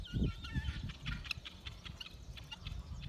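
Guinea fowl call as they run in a farmyard, giving a quick series of sharp, raspy clucks and chatter. The calls are fairly faint and come in uneven bursts over soft background noise.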